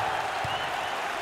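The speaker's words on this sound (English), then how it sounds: "Listen to the crowd" Crowd noise fills a basketball arena during a Big XII Tournament game between Oklahoma and TCU, a dense, even wash of cheering and applause heard at a distance.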